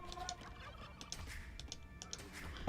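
Turkeys gobble in an Age of Empires II match, a few short bursts rising over a steady busy game background with clicking, moderately quiet and without talk.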